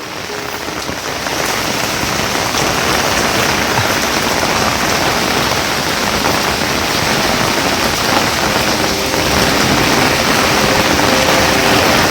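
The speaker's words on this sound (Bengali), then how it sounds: "মুষলধারে বৃষ্টি হচ্ছে" Heavy pouring rain on a rainy day in front of a house by the road, a loud, dense, unbroken hiss of drops hitting surfaces throughout.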